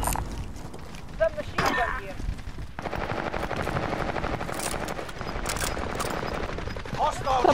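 Machine gun fire in the Call of Duty Warzone video game, sustained rapid automatic bursts running through most of the stretch, loud and close, with a player talking over parts of it.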